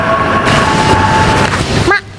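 A train rumbles loudly and continuously nearby, with a steady high tone and a squeal near the end before the noise drops away; no talk.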